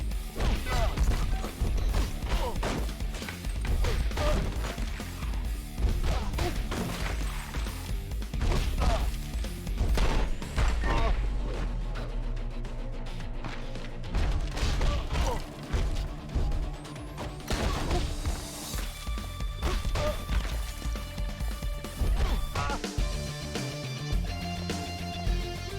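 Enemies being struck and sent flying in the action game Mr. Shifty on Nintendo Switch, with repeated smashing crashes and thwacks over a continuous music track, dense and steady with no speech.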